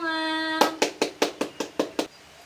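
Children in a classroom applaud together in a quick rhythmic burst of about eight unison claps, coming right after a brief held voice tone.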